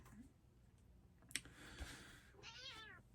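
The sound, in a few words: upset cat meowing for attention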